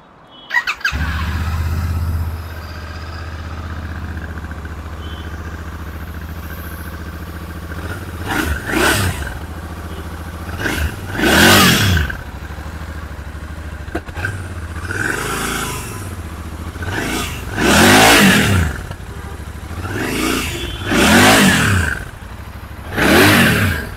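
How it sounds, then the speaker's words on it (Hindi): A 2024 Royal Enfield Interceptor 650 idles with a low rumble, then its engine is revved repeatedly in loud, rising bursts, the exhaust roaring close up between pauses. "सबसे पहले मैं आपको एग्जॉस्ट नोट ही सुनाऊंगा इस शानदार बाइक का"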